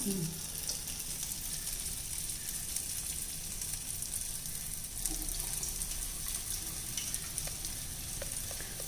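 Medu vada, lentil fritters, frying in hot oil with a steady, fairly faint bubbling sizzle throughout, a few brief clinks and handling noises near the start and midway.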